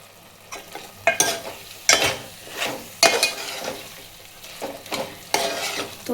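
Masala cooks down with chicken in a pan for a dhaba-style chicken curry. Repeated scraping strokes of a spoon against the pan land in an uneven rhythm over a low sizzle, close and fairly loud, without talk.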